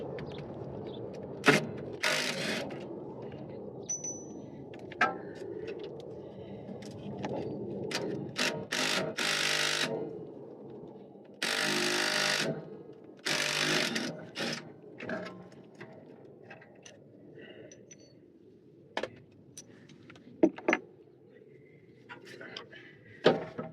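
Caliper and caliper bracket bolts come off the rear brakes of a 2015 Toyota Tundra. Sharp bursts from an impact tool and ratcheting clicks sound close, with several longer whirring runs against a quiet background.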